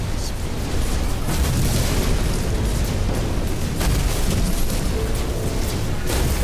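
Weapon fire and explosions from No Man's Sky as a player shoots at a freighter: a dense, continuous roar of blasts and bursts, loud and sustained throughout with no clear gaps.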